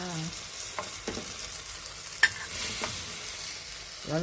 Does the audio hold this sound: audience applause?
no